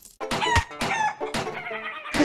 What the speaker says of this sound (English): Now what is that turkey sound?